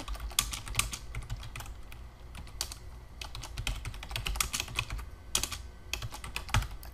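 Rapid typing on a computer keyboard, steady clusters of close, crisp key clicks running throughout with no voices.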